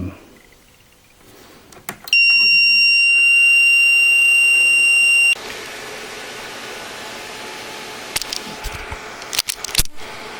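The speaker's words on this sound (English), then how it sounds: "it seems to be the video card which is causing this weird beeping noise" A newly built computer with a faulty video card gives a loud continuous electronic beep for about three seconds after a click, then stops, leaving a low hum with a few scattered clicks.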